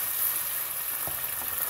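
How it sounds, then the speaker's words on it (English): Tomato sauce added to a pan sizzles and fries in hot oil as the water cooks off, a steady close crackling hiss with a few soft pops and no talk. "you can tell when it goes from water boiling"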